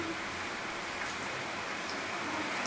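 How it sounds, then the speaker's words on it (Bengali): Steady, even hiss of rain falling outdoors, continuous and moderately loud with no voices. "আর বাইরে বৃষ্টির আওয়াজ নিশ্চয়ই পাচ্ছেন।"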